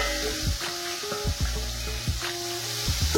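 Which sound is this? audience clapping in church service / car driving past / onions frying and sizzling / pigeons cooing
onions frying and sizzling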